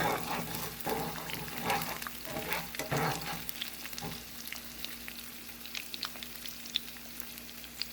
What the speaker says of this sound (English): Okay, so I got my eggs in it. And you want to just kind of swirl it around like you're making scrambled eggs